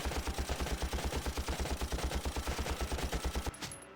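Rapid automatic rifle fire from Valkyria Chronicles, a fast steady rattle of shots for about three and a half seconds before stopping abruptly, loud and close with no talk over it.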